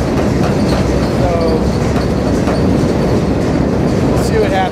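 Loud, steady rumble of a freight train rolling along the rails, with rhythmic clatter of wheels over track joints and brief metallic squeals.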